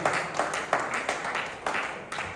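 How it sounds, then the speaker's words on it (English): Applause from a seated audience at a legal profession mentorship session, with steady dense clapping that holds loud and near for the whole stretch and no talk over it. "A round of applause for yourself."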